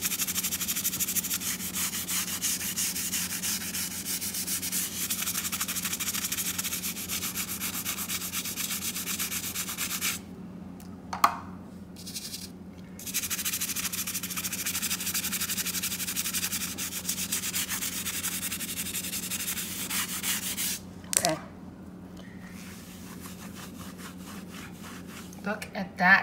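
Continuous rough scrubbing of tile grout cleaned without chemicals, a loud hissing rub that runs for long stretches and stops twice with short pauses before resuming, close to the mic.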